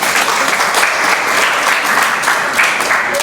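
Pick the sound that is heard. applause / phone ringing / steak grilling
applause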